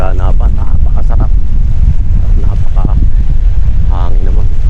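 Wind buffets the microphone in a steady, loud rumble along a Saudi Arabian beach, with people talking over it throughout.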